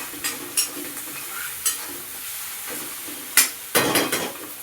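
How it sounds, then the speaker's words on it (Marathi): Chopped tomato is stirred into masala frying in a pan while drumstick curry cooks, with a soft sizzle running underneath and intermittent scraping strokes of a spoon, the last few louder and close together. "तो याच्यामध्ये घालून घ्यायचा आणि छान असं फिरून घ्यायचं मस्त"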